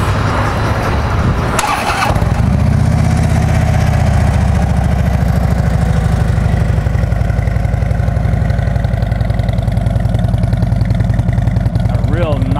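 A Harley-Davidson Street Glide FLHX fires up with a short starter burst, then settles into a loud, steady, deep idling rumble that continues close by to the end.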